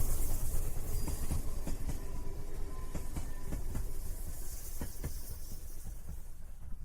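A train sound effect rolls along with a steady, low rumble and a hissing wash, broken by a series of faint rhythmic clacks from the wheels.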